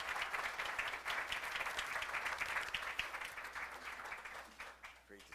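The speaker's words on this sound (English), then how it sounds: "How about a nice round of applause, Mr. Hunt?" A breakfast audience for an essay contest event gives a sustained round of applause after a chairman is introduced at the podium, steady crowd clapping filling the room and thinning slightly near the end.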